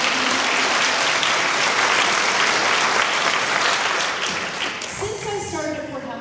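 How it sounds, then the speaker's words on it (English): An audience at a high school honor society installation gives a round of applause for the students, loud steady clapping that tapers off as a speaker's voice returns at the end. "So, yes, another round of applause."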